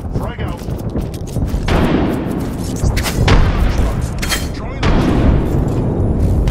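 Gunfire and a grenade blast in the Apex Legends video game: loud, dense shooting with repeated heavy booming impacts and an explosion, close and continuous over a few seconds, with a voice speaking over the combat.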